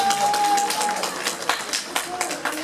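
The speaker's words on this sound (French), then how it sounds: "Applaudissez, s'il vous plaît." An audience at a Guinean music concert in Essen claps and cheers, a ragged patter of hands in a hall that carries on behind the voice of an announcer over a microphone.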